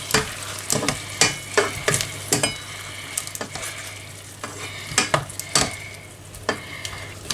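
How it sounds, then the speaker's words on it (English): Food frying in a pan while being stirred, a continuous sizzle punctuated by repeated sharp scraping strokes of a utensil against the pan, close and fairly loud. "You stir it."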